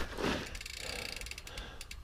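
Rubber frame protector on a trail mountain bike at a bike park rubs and rattles against the frame as a faint, steady mechanical ticking and clatter, with rolling noise underneath.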